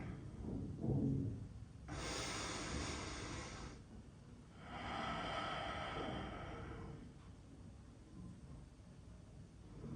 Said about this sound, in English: Find your breath. Big exhale.